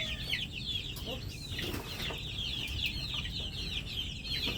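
Pet chicks peep and cluck steadily in a close, busy chorus of high chirps over a low background rumble, with brief soft knocks or rustles.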